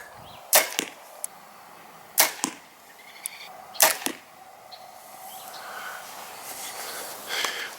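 A bow shooting a group of arrows at a target, three sharp loud releases spaced a second or so apart, each with a quick follow-up thump, close by in open air with faint rustling afterward.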